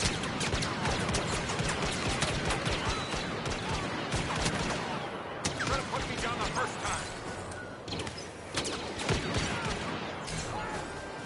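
Dense rapid blaster fire from a heavy blaster pistol in Star Wars Battlefront gameplay, continuous overlapping shots and impacts with game effects, loud and busy throughout.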